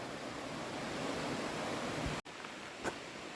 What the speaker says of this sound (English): Water, water everywhere.